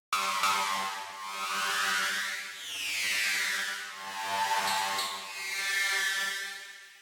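Synthesizer glass keys patch run through a bit crusher modulated by an LFO, giving a bright, gritty sustained tone with slow sweeping, phasing swells that rise and fall several times, heard alone and fairly soft.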